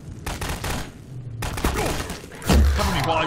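A mounted gun on a bridge in a video game firing in bursts, sharp thumping reports and a heavy boom near the end, with voices talking in between.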